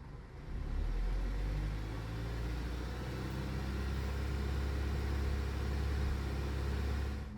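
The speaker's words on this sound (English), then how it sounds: "see that? Look, now it's misfiring." An Audi B8 A4 engine runs steadily with a low, even drone at moderate volume, heard up close without talk; any misfire stumble from its weak spark plug is not clearly audible.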